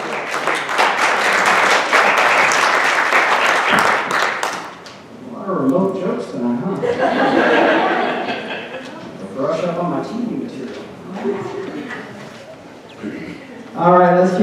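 Applause for a comedian at a comedy showcase, a thick burst of clapping for the first few seconds that gives way to a person talking, with a short flare of clapping returning at the end.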